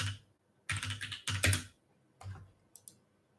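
Quiet typing on a computer keyboard, a few short bursts of rapid key clicks separated by pauses, close and soft with no talking.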